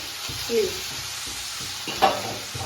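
Onion and garlic gravy for a Kathiyawadi whole-onion curry sizzles in a pan while being stirred, with steady frying crackle and a couple of brief spoon scrapes, close up.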